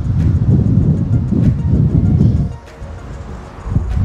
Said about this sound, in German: Und immer noch sehr, sehr windig hier